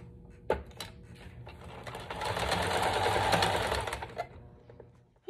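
A sewing machine stitches the hem of a box pleat dust ruffle, starting with a knock, running up to a steady, loud mechanical whir for a couple of seconds, then slowing and stopping, alone without talk.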